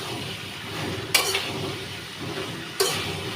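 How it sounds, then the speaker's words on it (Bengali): Okra stirred and turned in a pan with spices, a soft steady sizzle with two brief scraping stirs of a utensil against the pan. "এটা ভেন্ডিটা দেওয়ার পর উল্টা পাল্টায় নেড়ে দিচ্ছি"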